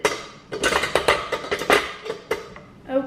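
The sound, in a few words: beating butter and sugar together in a bowl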